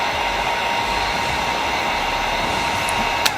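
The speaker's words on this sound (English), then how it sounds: "You can use a heat gun or hair dryer. Apply heat around this area." A heat gun or hair dryer blows hot air on window film during a 2019-2023 Cadillac XT4 side window chrome delete, a steady close whooshing roar with a constant whine, ending in a brief click.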